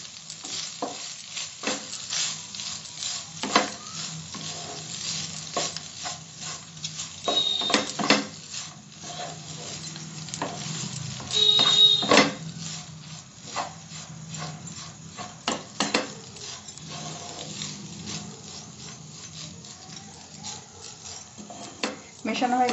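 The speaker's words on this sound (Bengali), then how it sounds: "ভালো করে মিশিয়ে দিচ্ছি ভাতগুলো মশলা এবং মিষ্টির সাথে সঙ্গে" Rice gets stirred together with spices and sugar in a pot for methi pulao, with repeated scraping strokes and utensil clinks against the pot under a soft low hum.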